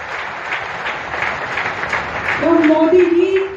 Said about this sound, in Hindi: एक बार चलो ऐप बनाने वाली हमारी बहन के लिए जोरदार तालियां।